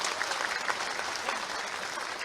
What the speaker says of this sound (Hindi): जोरदार ताली से स्वागत कर जाओ